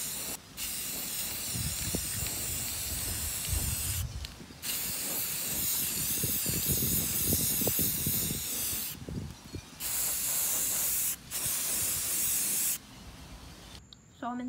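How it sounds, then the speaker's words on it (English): A spray paint can hisses in several long bursts separated by brief pauses, close by, painting a cork board outdoors in a backyard, with some faint background noise between sprays. "this is the cork board and I'm just gonna spray paint it"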